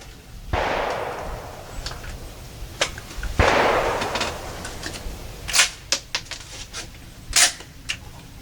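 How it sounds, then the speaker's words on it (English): A gun is fired several times in a row outdoors to empty it, sharp cracks spaced out at irregular intervals over a quiet background, with a couple of louder hissing bursts early on. "can you put your earplugs in and let me empty this gun out?"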